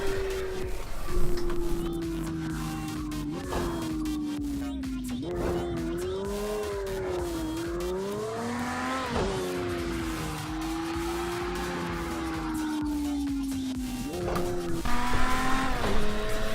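Lamborghini Diablo GTO lapping the Zolder circuit in snow, its engine droning and rising and falling through gear changes with rev swings, loud and close throughout.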